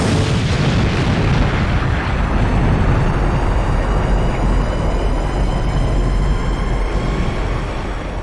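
End crystal explosions go off during a high launch in Minecraft, a loud continuous roaring rumble of blasts that runs throughout with no talking.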